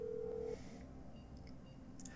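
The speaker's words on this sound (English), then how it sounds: "Now you're going to take out your phone and detonate the place" A phone keypad tone sounds in GTA 5 as a player dials to detonate explosives, one long clear beep followed by a few quieter short tones over faint background noise.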